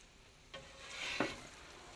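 A breakfast scramble sizzles softly on a Weber griddle as a spatula scrapes and stirs it in two brief passes, close but quiet.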